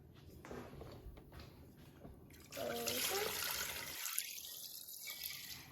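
Water poured into an Instant Pot with rice and seasoning for Cuban imperial rice, a soft steady trickle and splash heard fairly faint and close.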